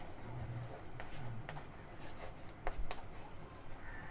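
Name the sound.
pencil writing on paper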